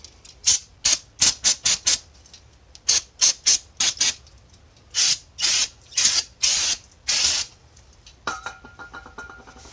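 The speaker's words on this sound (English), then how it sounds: "we're just going to do a little final brake clean" Brake cleaner sprays onto the front brakes of a 1979–1993 Fox body Mustang in repeated short hissing bursts, loud and close, with brief pauses between them and a faint squeak near the end.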